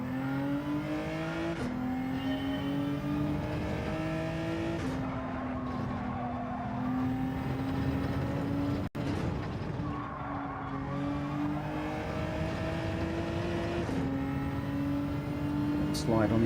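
Race car engine from Gran Turismo 7 droning steadily through laps, pitch rising through the gears with brief drops at shifts and a short break near the middle, a voice talking over it throughout.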